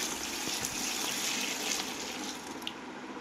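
Cut mangoes washed under running water for pickle, with a continuous close splashing gush that stays steady from start to finish.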